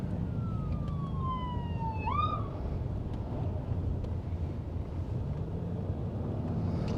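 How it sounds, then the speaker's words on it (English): A distant ambulance siren wails once, sliding downward and then yelping back up, faint over a steady background of traffic noise on a road in Arizona. "oh, there's an ambulance"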